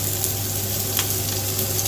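Vegetables stir-fry in hot oil in a wok, giving a constant close sizzle with light scraping, and no one speaks.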